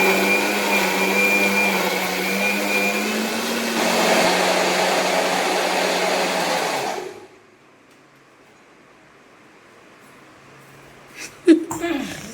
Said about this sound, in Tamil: இது வந்து நம்ம மிக்ஸியில் அரைச்சிட்டு வந்துடுறோம்